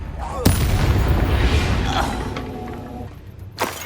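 A Confringo fire spell bursts in Hogwarts Legacy: a sharp, loud explosive crack followed by a sustained roaring, rumbling blast that slowly fades, with a second smaller impact near the end.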